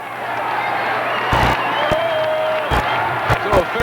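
Stadium crowd at a 1979 Denver Broncos football game, a broad sustained roar of a capacity crowd with a few sharp bursts rising out of it, heard at a distance under a broadcast announcer's voice.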